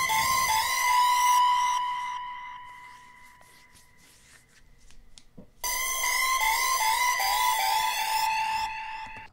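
A dry synth lead plays a bright, buzzy, repeating melodic pattern in a beat. It thins out into a sparse, quieter passage before returning at full level.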